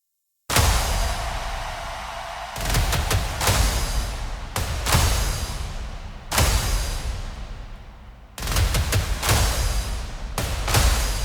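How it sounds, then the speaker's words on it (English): Booming cinematic impacts for a hardcore/hardstyle track hit one after another, each a loud, full-range strike that decays with a long, rumbling tail before the next accent lands. "we're going to add some impacts and sort of accents to sort of highlight the melody"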